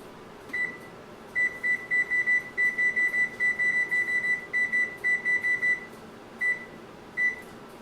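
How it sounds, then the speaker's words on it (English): A kitchen oven timer beeps in quick, evenly spaced bursts of short electronic tones, grouped in runs with brief pauses, then a couple of isolated beeps near the end, steady and fairly loud. "we're going to turn the timer on 20 minutes"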